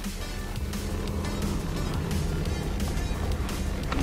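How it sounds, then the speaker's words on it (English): A 1/16 scale Bezgar 161S RC car with a 3845 motor speeding past, giving a steady loud electric whine and rushing tire noise close by, no speech. "Little 16 scale getting up like this with a 38-45 motor."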